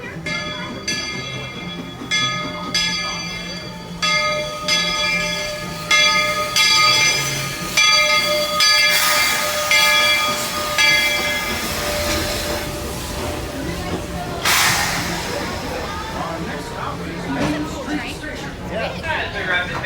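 Aboard a train ride during a Florida trip, repeated bell chimes ring over a low rolling rumble, followed by a hissing surge and continued running noise, with people talking.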